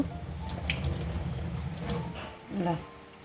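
Tap water runs steadily into a vessel in a home kitchen while rice snacks are being prepared, a continuous splashing flow heard under a person talking.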